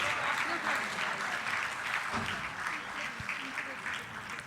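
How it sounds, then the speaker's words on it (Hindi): Applause from an audience at a book release ceremony in Ayodhya, a soft, steady patter of clapping heard from a distance, with some voices murmuring through it. "आप सभी की तालियां इस विशेष अवसर के लिए अपेक्षित हैं।"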